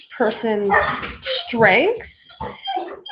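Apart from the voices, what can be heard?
dog barking in the background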